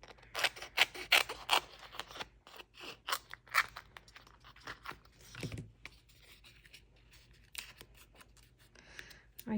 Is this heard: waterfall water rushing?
no